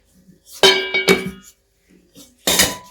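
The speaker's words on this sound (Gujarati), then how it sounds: "તવાને મૂકી દઈશું." A metal tawa griddle is set down on a gas stove, making three ringing metallic clanks, two close together and a third after a short pause, in an otherwise quiet kitchen.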